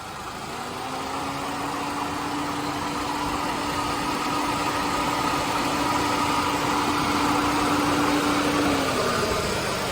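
A Saab 9-3 engine idles steadily and evenly nearby, a smooth constant hum with no talking over it.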